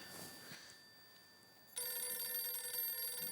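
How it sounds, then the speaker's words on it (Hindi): A telephone rings in an indoor room, a faint tone at first, then a loud, sustained electronic ring that starts abruptly and keeps going alone to the end. "किसका फोन है?"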